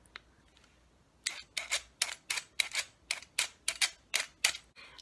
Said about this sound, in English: I even found an instrument that makes its sound by scraping.